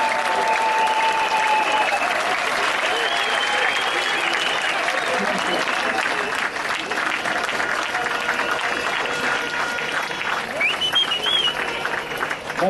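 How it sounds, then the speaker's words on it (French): Ovation at a party congress, a large crowd clapping loudly and continuously with cheers and a few whistles rising over the dense applause. "vous adresser une salve bien nourrie d'ovations et d'applaudissements"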